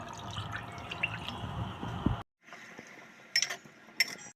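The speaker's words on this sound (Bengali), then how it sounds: "এই থালাটা ধুয়েই আমি সামান্য জল এর মধ্যে দিয়ে দিচ্ছি" A little water is poured into a pot of marinated mutton for handi mutton, rinsed from the plate the meat was coated in, giving soft drips and liquid splashes with a few clinks of metal cookware, close and fairly quiet.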